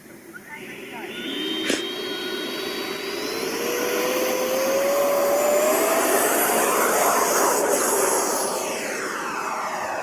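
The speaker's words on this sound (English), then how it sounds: "flying his Avanti S2V80" A radio-controlled Avanti S2V80 model jet flies past, its turbine whine rising in pitch and swelling to a loud, steady roar mid-pass before easing slightly, with a sharp tonal sweep early on.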